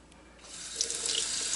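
Running tap water pours steadily into a sink as eggs are washed under it, a soft continuous splash that grows slightly fuller midway, with no voices.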